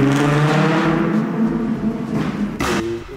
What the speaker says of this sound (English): And what better engine is there than an R32 for the sound?